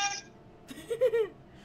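A phone alarm gives a short, high electronic beep at the very start. Moments later a person speaks briefly in a quiet room.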